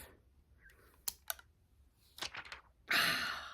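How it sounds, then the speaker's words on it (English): Clear plastic film is peeled off a new makeup palette with a few quiet crinkles and taps, ending in a louder rustling rip of the film coming away. The sounds are close and isolated. "I haven't even taken the plastic thing off. Let's take it off."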